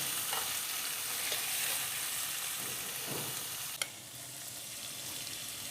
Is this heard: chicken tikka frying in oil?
yes